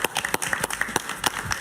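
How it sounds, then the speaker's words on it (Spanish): Studio audience applauding guest Jorge Bucay on a Spanish-language talk show, a short burst of dense claps with sharp individual hits, fairly close and steady throughout. "Un aplauso para él, por favor"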